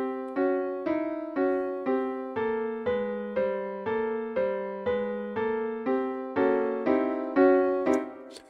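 A composed melodic passage pairing original phrases with phrases reflected in place: evenly spaced pitched notes with rich harmonics in a steady repeating rhythm, each note decaying quickly, clear and moderately loud with no talking.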